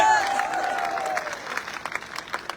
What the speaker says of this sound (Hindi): जरा ताली बजा के बताओ